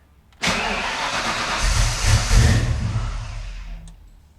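A Foxbody Mustang fitted with Holley Terminator X fuel injection cranks and fires, settling into a loud, steady idle close by with a slight swell in the middle before dropping off abruptly after about four seconds; no one talks.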